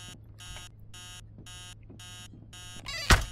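Repeated electronic beeping from an alarm clock in the horror game Emily Wants to Play Too, five evenly spaced bursts that sound alone and fairly loud, ending in a sharp louder click or thump.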